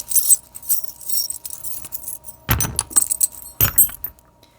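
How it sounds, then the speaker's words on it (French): Small metal charms jangle and clink as a hand shuffles and handles them for a reading, with close bright rattles that come in irregular bursts and sharper handling knocks in between. "je vais approfondir avec les breloques"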